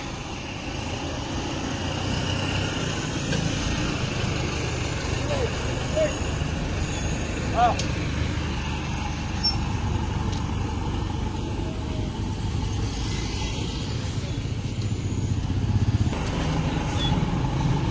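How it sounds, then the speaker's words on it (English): A garbage truck drives past on a street, its engine rumbling steadily and fairly close throughout, with a short air-brake hiss partway through. "Comes the garbage truck."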